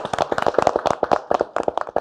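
A small group claps to welcome the chairman to a family worship class, giving a close, distinct run of individual hand claps in an uneven rhythm for about two seconds, with no talking.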